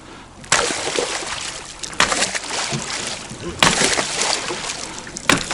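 A small boat pushes through icy river water, with steady loud sloshing and grinding and sharp bursts as it strikes ice, up close with no talking.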